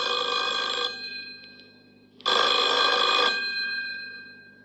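An old-fashioned telephone bell rings in two bursts with a pause between, a bright metallic trill close by and loud, the second burst longer.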